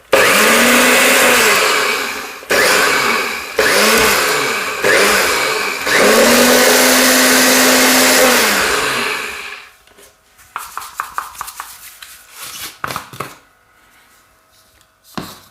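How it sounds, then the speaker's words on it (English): Blender grinding wild dock seeds into flour, a loud close whirring roar that starts and stops in several bursts, then a few rattling clicks and knocks as the jar is handled. "So if you just blend it for a few seconds, you'll get a coarser flour."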